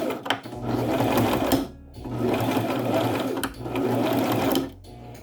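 A sewing machine stitches a scrunchie in three sustained runs separated by short stops, loud and close, with no voices over the machine.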